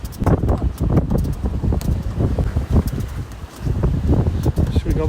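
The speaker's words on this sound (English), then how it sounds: "windy as heck." Wind gusting hard across a microphone on an outdoor hike, a steady rough roar with buffeting bursts and faint rustling, loud and continuous throughout.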